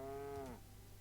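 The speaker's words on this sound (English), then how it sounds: "Yes, we have cows." A single cow moos in the Dragon Age: Origins video game, one short, clear, tonal low call that slides downward and stops, heard alone and fairly faint.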